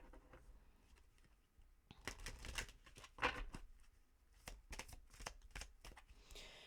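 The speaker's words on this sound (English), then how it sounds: "Right, let's get you some romance angel cards." Romance angel oracle cards shuffle close by in quick papery bursts, with brisk riffles and light taps clustered in the middle and quieter handling at the start and end.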